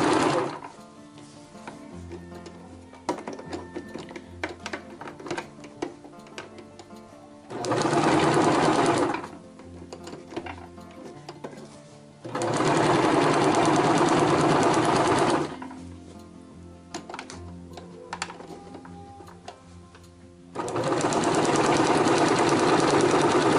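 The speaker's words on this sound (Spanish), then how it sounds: "Vamos a la máquina. Ahí le vamos cosiendo el centímetro." A sewing machine stitches fabric for a disposable tissue holder in loud, steady bursts of several seconds each, with quieter pauses between runs and light handling noises in the gaps.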